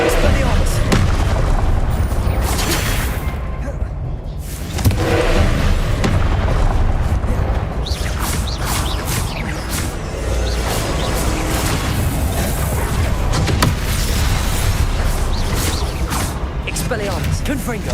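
Spell blasts in Hogwarts Legacy during combat: repeated loud booming impacts and crackling bursts come one after another over a dense, noisy game soundscape, close and heavy throughout.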